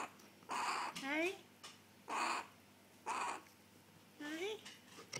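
A baby crow gives about five loud, close, harsh caws in separate bursts, some rising or wavering in pitch, with short pauses between them.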